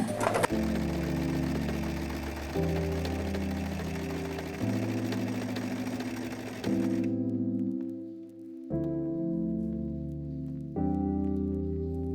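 A sewing machine fitted with a pintuck presser foot stitches pintucks in velvet, its motor humming loudly and steadily, then briefly pausing before the stitching resumes in close, continuous bursts.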